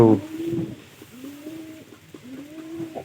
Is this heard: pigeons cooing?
yes